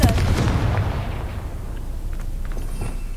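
A Confringo blasting spell explodes in Hogwarts Legacy, a loud booming burst at the start that rolls into a long, rumbling decay with faint crackles trailing off.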